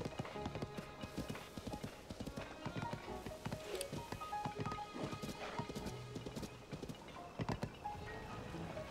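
Quick, rhythmic clip-clop of horse hooves trots along continuously with a faint whinny in The Legend of Zelda: Tears of the Kingdom, game-like and fairly quiet.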